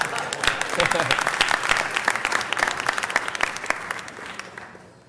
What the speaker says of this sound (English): Let's give Councilmember O'Farrell a round of applause.